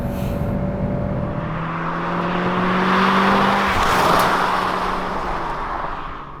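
A 2021 Kia Optima hybrid with a solar roof accelerates, its engine note rising in pitch as road and tire noise swell and fade over several seconds, heard from inside the car without speech.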